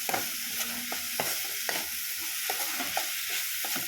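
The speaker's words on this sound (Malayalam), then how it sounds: "ഇനി ഇതിലേക്ക് നമുക്ക് അരച്ചു വെച്ച തേങ്ങയുടെ കൂട്ട് ചേർത്ത് കൊടുക്കാം. മിക്സ് ചെയ്ത് കൊടുക്കാം." A spoon stirs ground coconut paste into beetroot pachadi in a pan, giving repeated scraping strokes at an even rhythm over a soft continuous sizzle.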